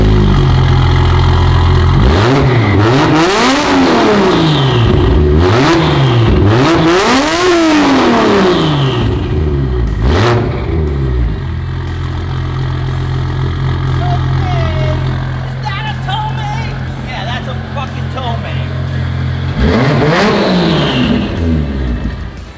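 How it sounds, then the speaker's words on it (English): Car engine breathing through a 4-inch exhaust system revs up and down repeatedly, producing loud rising and falling roars, then settles into a deep, rumbling idle before a final blip. "4-inch exhaust system all the way under the car. Pretty cool, right? It sounds absolutely epic."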